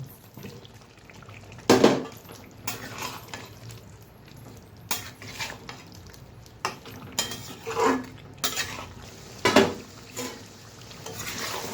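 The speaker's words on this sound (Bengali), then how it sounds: "পেঁপে আর আলুগুলো ছেড়ে দেব।" Papaya and potato pieces are dropped into a pot of cooking goat meat, with clattering spoon and pot sounds and scattered stirring thumps. Quiet gaps separate the louder knocks.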